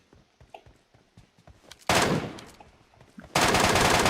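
Loud close bursts of automatic rifle fire in PUBG Mobile, two sustained volleys cutting in suddenly after quieter scattered shots and movement sounds.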